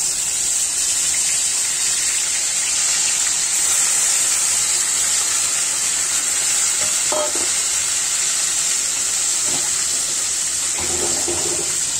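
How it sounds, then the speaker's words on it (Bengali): Chicken pieces added to a hot pan and frying with spice powder, a loud continuous hiss of sizzling oil with a few faint stirring knocks toward the end, no talking. "এখন আমি মাংসগুলো ছেড়ে দিচ্ছি"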